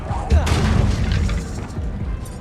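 Confringo spell explosion in Hogwarts Legacy, a single loud, close boom with a sharp attack, then a rumbling tail under ongoing combat noise.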